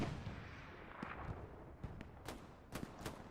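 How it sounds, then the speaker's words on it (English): Grenade blasts and distant gunfire on a Hell Let Loose World War II battlefield near an infantry trench line; several sharp, moderately faint detonations spaced irregularly over a low rumbling background. "believe Nacho has grenaded."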